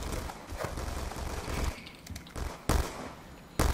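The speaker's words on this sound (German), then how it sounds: "Aber wieso schießen die alle so schnell?" Rapid automatic gunfire in the multiplayer shooter Black Ops 2, dense bursts of shots followed by a few sharp, isolated loud reports near the end.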